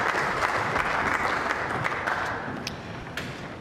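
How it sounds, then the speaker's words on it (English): Steady applause from the crowd at a World Cup of Pool 9-ball match, Austria versus Sweden, after Austria takes a 5-2 lead; clapping fairly loud and sustained, easing slightly toward the end. "Yeah, good applause for the Austrians"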